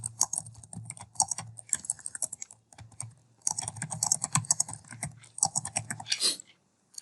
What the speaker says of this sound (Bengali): আমি এখানের মধ্যে এই শীটের মধ্যে একটা সেন্টেন্স লিখবো